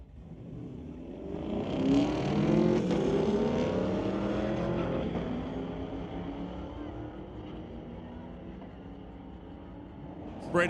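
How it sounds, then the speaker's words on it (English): A 1991 and a 2018 Chevrolet Camaro launch side by side at a street-legal drag strip at Mission Raceway Park, engines swelling into a loud, rising roar, then fading steadily into the distance with faint voices beneath. "Braden takes off first in the newer Camaro"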